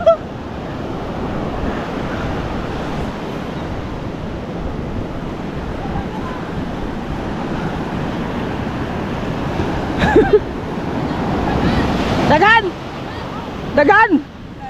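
Rough sea waves keep up a loud, continuous roar with wind buffeting the microphone, while voices shout over it near the end.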